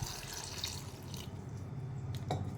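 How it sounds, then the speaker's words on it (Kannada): Water pours over large chunks of ash gourd in a pot, making a close, continuous splashing gush that tapers into softer trickles and a few drips. "ಇದು ಮುಳುಗುವವರೆಗೆ ನೀರು ಹಾಕಿಕೊಳ್ಳಿ"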